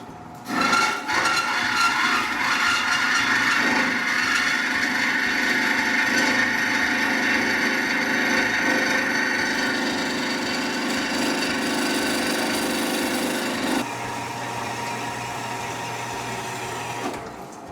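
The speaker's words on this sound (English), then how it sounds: "We got a bandsaw, which is nice to have. We'll go ahead and run that." A bandsaw in a shop runs and cuts continuously, a loud steady rasping whir with grinding cut noise throughout, easing slightly near the end as the cut finishes.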